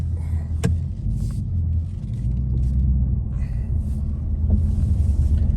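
Ford Mustang California Special V8 idling with a steady, deep low rumble, close and continuous, with a brief sharper blip near the start and faint ambient noise over the top.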